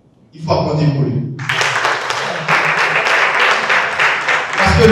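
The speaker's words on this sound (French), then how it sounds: "Il faut applaudir pour lui." After a short bit of talk, audience applause breaks out at an environmental café discussion and carries on loud and steady to the end.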